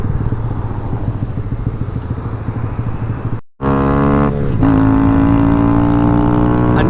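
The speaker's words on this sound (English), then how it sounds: "it's really hard to just explain that while I'm riding on a Grom" Honda Grom motorcycle being ridden, its small single-cylinder engine droning loud and steady up close, cutting out for a moment, then returning with a rising rev.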